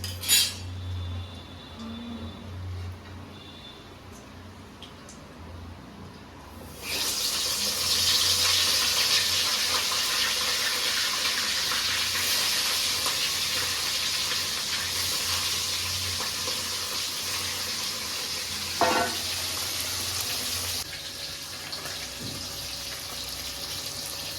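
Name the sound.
katla fish pieces frying in hot oil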